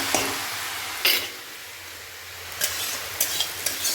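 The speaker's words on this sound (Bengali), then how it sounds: "এই ভাজাটা হয়ে যাচ্ছে" A vegetarian vegetable dish fries in a pan with a steady soft sizzle, punctuated by several sharp scraping stirs of a utensil against the pan, close and alone without talk.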